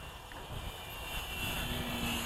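A Durafly Slow Poke RC model airplane, repaired after a crash and with its motor realigned, drones steadily in flight outdoors, its electric motor buzzing continuously and growing slightly louder over a couple of seconds.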